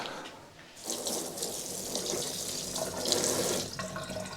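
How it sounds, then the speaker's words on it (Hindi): Tap water runs steadily into a sink while paneer is rinsed under it, a close, continuous splashing hiss that swells slightly as the block is moved through the stream, with no talking. "So let me take out this paneer, let me wash this a little."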